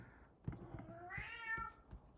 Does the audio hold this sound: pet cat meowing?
yes